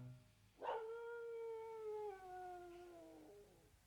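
Two dogs howling in ruins in a Gundam anime episode: a long, sliding howl rising sharply then slowly falling, drawn out for nearly three seconds, clear against a quiet background.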